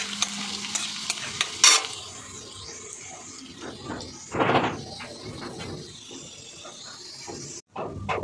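Ginger and garlic frying for chilli chicken, a busy sizzle with stirring scrapes and a loud clatter near the start, a louder burst of frying midway, then a brief drop before the sizzle resumes.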